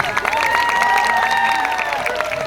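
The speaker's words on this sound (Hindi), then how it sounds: "जोरदार तालियां हो जाए।" Audience applause at the close of an Apollo Day hospital programme: a dense, steady patter of clapping runs through the whole stretch, mixed with a sustained tonal voice or music line over it.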